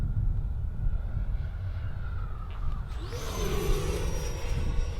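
An FMS Super Scorpion 90mm EDF model jet flies past with a steady whooshing ducted-fan roar that swells and rises in pitch as it approaches, moderately distant and alone.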